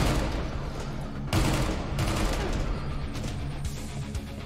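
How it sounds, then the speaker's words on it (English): Enemies open fire in a Doom-style roguelike shooter game, a dense rattle of gunshots with a sharp burst partway through, continuing steadily as repeated bangs at moderate loudness with no talking. "they're shooting."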